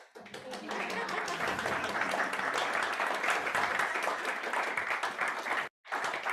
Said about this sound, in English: That's where you applaud.